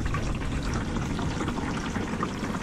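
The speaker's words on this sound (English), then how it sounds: "As you can see, there's a lot of oil coming out." Engine oil drains from the open sump plug of a Cummins 5.9 diesel in a Ram 3500 Mega Cab, pouring in a steady, continuous splashing stream close by, with no talk over it.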